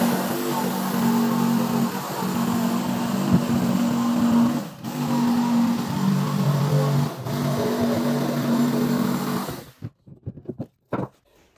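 Jigsaw cutting an opening in a shower pan, a loud continuous buzzing whine with brief dips in pace before it stops abruptly near the end, followed by scattered knocks.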